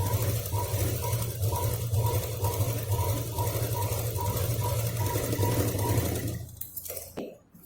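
A sewing machine stitches fabric for a drawstring pouch bag with no zip, humming close by at a steady, even rhythm for about six seconds before slowing and stopping, with faint handling noise at the end.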